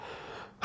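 A stifled sneeze follows a faint breathy intake and a short pause, then bursts out abruptly, close and very loud.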